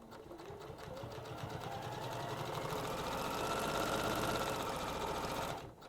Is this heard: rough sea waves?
no